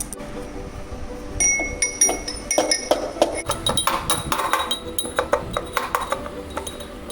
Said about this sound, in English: Now I am crushing the spices.